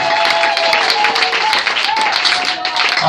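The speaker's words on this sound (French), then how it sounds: "Acclamez pour Jésus." A church crusade congregation applauds for Jesus in sustained, dense clapping that fills the hall, loud and close, with some crowd voices mixed in.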